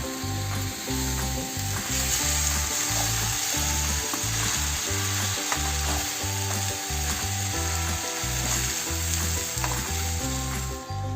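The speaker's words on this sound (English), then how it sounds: "We will be frying it for 2-3 minutes more." Steady sizzling of spiced potatoes with seeds frying in a pan, with a rhythmic scraping and stirring clatter repeating throughout, fairly close.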